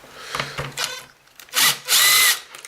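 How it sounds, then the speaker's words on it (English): An impact driver with a Torx bit backs out a screw while stripping down a used Kirby Avalir vacuum, giving several short close-up bursts of rattling whir, the last two louder and longer. "I'm going to use the impact driver to just make this video as short as possible just while I strip it down"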